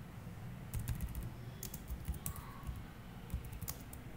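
Fingers typing on a computer keyboard while writing a script file, a quick irregular run of soft, close key clicks in short bursts.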